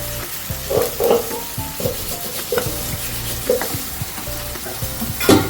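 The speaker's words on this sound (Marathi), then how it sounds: "हा मसाला आपण टाकलाय बनतो मसाला चांगला आपण फिरून घ्यायचा आहे" Masala fries in a pan while a spoon stirs it, giving a loud steady sizzle close up, broken by repeated scraping strokes and clinks against the metal.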